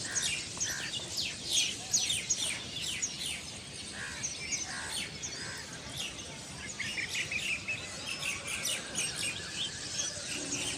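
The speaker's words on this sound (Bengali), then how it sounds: "শুনতে পাচ্ছ পাখিদের ডাক?" Birds call at sunrise among tall city buildings in Mumbai, with many short chirps and tweets scattered throughout, some nearer and brighter, over a soft background hum and no speech.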